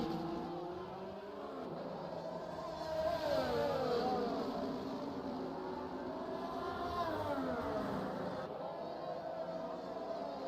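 Racing cars in a Schumacher Series video-game race at the USA Grand Prix whine past on a straight, with engine pitch sweeping up and down as they overtake, and a commentator talking over it.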